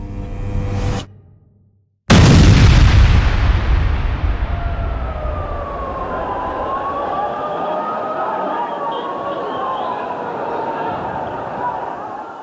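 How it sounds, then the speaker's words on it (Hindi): A sudden loud bomb blast in a Mumbai stock exchange building basement erupts after a brief silence, then a long roaring rumble lingers while a wailing siren-like tone rises and falls. "Seconds after the blast of the bomb,"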